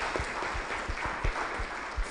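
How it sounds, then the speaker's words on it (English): Audience applause for panelists at a medical technology fair, a short burst of steady clapping with a few sharper claps standing out. "Please, a round of applause again for our panelists."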